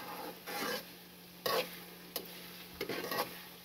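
A spoon stirs chili paste frying in a little oil, a soft steady sizzle broken by several scraping stir strokes and a few sharp clacks, close and fairly quiet.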